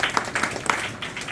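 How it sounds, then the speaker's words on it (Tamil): An audience at a Sri Rama Navami celebration claps in a dense, steady burst of applause, loud and close, with no voices rising above it. "அதுக்காக ஒரு ஸ்பெஷல் கரகோஷம் நீங்கள் கொடுக்கணும்னு"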